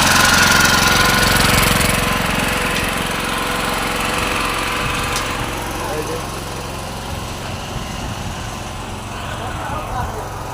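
Pipe-driving machine sinking pipes into the ground outdoors, a loud continuous engine drone with knocking pulses, close and steady, fading slightly over time.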